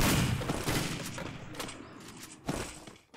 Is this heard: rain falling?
no